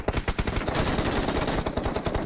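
Rapid automatic gunfire from several players shooting at once in a battle royale video game, loud and continuous volleys with sharp repeating cracks, no voices.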